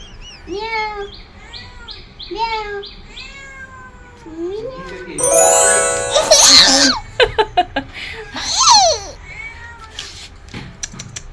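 A cat meows several times in short, rising cries, followed by children laughing, squealing and talking loudly over it near the end.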